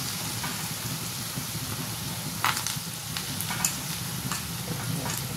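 Soaked-lentil bhaji fritters frying in hot oil: a steady, close sizzle with a few light pops and crackles, and no speech.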